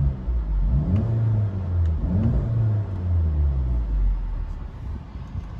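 Volkswagen Golf GTI MK7.5 2019 with 300 hp, warmed-up engine, revved repeatedly while stationary, with rising and falling surges over a steady rumbling idle, close and loud, with no talk.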